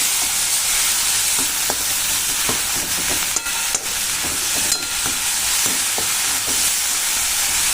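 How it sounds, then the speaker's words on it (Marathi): Onion and tomato sizzle and fry steadily in a hot pan while being stirred and mixed, with a continuous loud hiss and occasional scraping clicks from the spoon. "आता हे मिक्स करून साधारणतः 1 2 ते 3 मिनिटात छान असं शिजला जातं आपला कांदा टोमॅटो"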